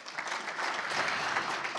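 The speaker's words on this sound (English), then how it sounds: "Give him a round of applause." Soft, even applause from a conference audience at a startup demo day, a dense patter of many hands held at a steady level for about two seconds, somewhat distant and without voices.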